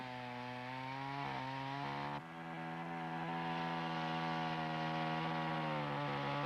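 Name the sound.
chainsaw making the felling cut on a tree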